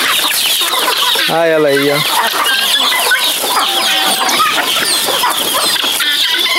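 A hybrid of rooster and guinea fowl clucks and calls in a busy farmyard, with a clear rippling call early on among other fowl sounds. A person speaks Portuguese over the birds.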